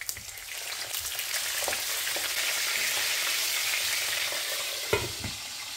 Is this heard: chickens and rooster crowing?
no